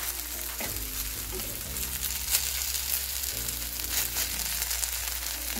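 Grated potato pancakes with cheese sizzle and crackle steadily in a frying pan, a continuous close hiss with occasional scraping stirs and low knocks underneath.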